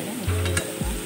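Small shallots frying in a pan, stirred with a spoon in a couple of short scraping passes over a soft sizzle.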